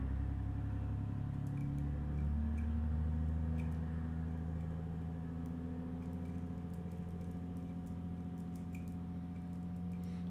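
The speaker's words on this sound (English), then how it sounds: "Hear that big old truck?" A big truck rumbles past at a steady distance, its low engine drone swelling and then easing off across the whole stretch, with no talking.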